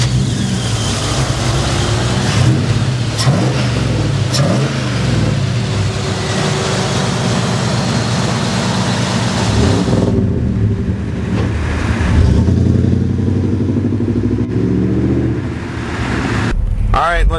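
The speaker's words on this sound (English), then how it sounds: "Alright, let's take this 40 Ford for a ride." A 1940 Ford pickup restomod engine runs steadily while the truck drives, its mid-pitched hum continuous and fairly loud throughout, with someone talking over it.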